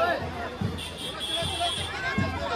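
Dense crowd hubbub at a Muharram procession in Sundar Nagari, a steady babble of many voices with a few louder calls and thumps rising out of the mix.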